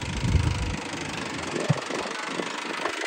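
A tractor engine idles nearby with a steady low rumble and a slight knocking texture, running continuously without speech.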